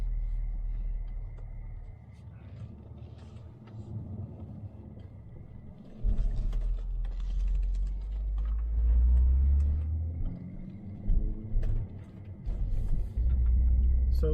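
A Saab 9-3 Turbo X car drives slowly, its low engine rumble and road noise steady and near, swelling louder in a few surges as it rolls along.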